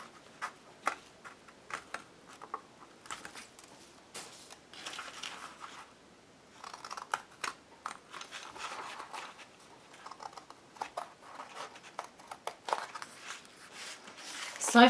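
Scissors snip through paper while cutting out a chain of paper dolls for an altered book, giving close, irregular bursts of crisp clicks and rustles over quiet room tone.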